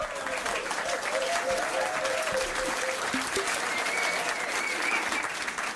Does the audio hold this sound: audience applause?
yes